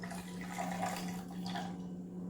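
Water is poured into a measuring cup, a steady splashing trickle over a low hum that tapers off toward the end, with no talking.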